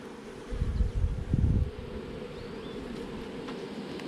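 Honey bees hum steadily during a hive inspection, a close, continuous insect drone with louder low rumbling handling noise for about a second early on, and no voices.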